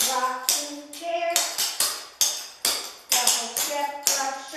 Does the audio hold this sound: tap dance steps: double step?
yes